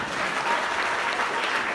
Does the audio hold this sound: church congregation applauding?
yes